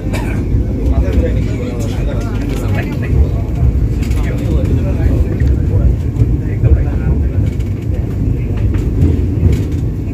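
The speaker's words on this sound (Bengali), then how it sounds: "আর এদিকে দেখো ট্রেন ছেড়ে দিছে" Vande Bharat Express 22227 pulling out on the Guwahati to New Bongaigaon run, a loud, steady low rumble that holds evenly throughout, with some voices over it.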